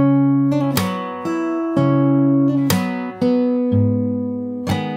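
Slow fingerstyle acoustic guitar rendition of a song: steady plucked bass notes under sustained chord tones, each new pluck about every second, close-miked and alone, with no voice.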